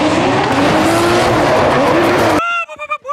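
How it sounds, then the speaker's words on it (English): A Nissan 180SX drift car in a D1NZ drift event, its engine roaring loud and close with tires squealing through a sustained slide, then cutting off abruptly to a few short rhythmic sounds. "driving the 180SX"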